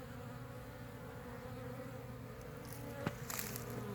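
A steady, dense insect drone of bees buzzing around a hive, close and continuous, with a brief sharper buzz of a single bee passing near the end.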